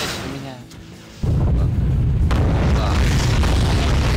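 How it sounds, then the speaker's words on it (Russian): After a brief muffled lull, a massive deep nuclear explosion in Five Nights at Freddy's: Security Breach RUIN erupts, settling into a loud, sustained rumbling roar. "посмотрим, долетит до меня ядерный взрыв или нет"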